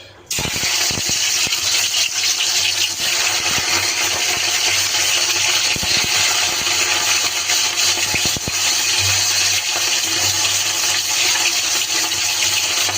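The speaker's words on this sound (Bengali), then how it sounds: "তেল গরম হয়ে গেছে, এখন মাছটা দিয়ে দিচ্ছি।" Catla fish pieces rubbed with oil and salt sizzle loudly in hot oil, a dense continuous crackle and hiss filling the whole stretch with occasional pops.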